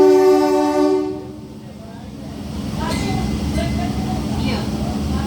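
An MMTS commuter train pulls into a station, opening with a loud sustained horn blast that fades into steady rolling rumble and clatter of the cars, with station announcements or voices faintly under the noise.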